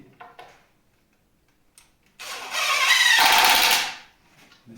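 A power driver sinks confirmat furniture screws into a new door, giving one loud, close whirring burst of under two seconds after a few faint clicks and taps, with no talk.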